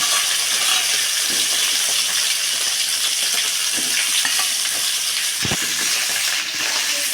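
Green chillies, dried red chillies and cauliflower frying in hot oil in a pan, a steady close sizzle and hiss with a few stirring clinks and scrapes of a utensil against the pan.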